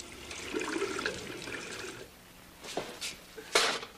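Water runs and splashes for a couple of seconds as it is poured for tea, followed by a few short, sharper splashes and drips.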